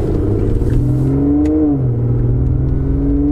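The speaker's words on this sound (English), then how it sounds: "the flagship V12 from Aston Martin" An Aston Martin Vanquish with a V12 engine revs close up, a loud steady growl that rises in pitch and then settles back.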